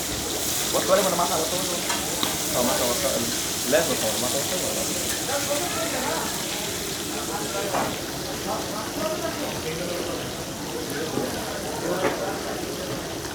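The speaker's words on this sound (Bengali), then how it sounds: "একদম পদ্মার তাজা ইলিশ ফ্রাই, চোখের সামনে ভাজা" Fresh Padma hilsa fish fries in a pan with a busy, crackling sizzle and stirring, while people talk in the background.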